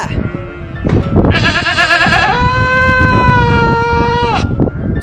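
A lamb in a shed gives a loud, close bleat with a drawn-out, wavering call lasting several seconds and then breaking off.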